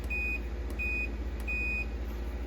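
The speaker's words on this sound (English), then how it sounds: "if you touch metal and then you make contact and there's continuity in between it, it beeps" A multimeter's high continuity beep sounds three times in short bursts while checking a Yamaha Warrior ATV stator coil, steady and thin, over a constant low hum.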